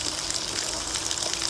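A water jet blasts through a clogged car DPF filter during cleaning, a loud, steady gushing spray with water forced back out, unbroken and without voices.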